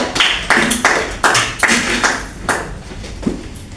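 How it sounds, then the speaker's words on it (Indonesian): Classroom applause for a student group during a junior high school math lesson, heard as a series of distinct, fairly loud claps in uneven bursts that fade toward the end, with no voices over them. "kita berikan tepuk tangan kepada kelompok 2"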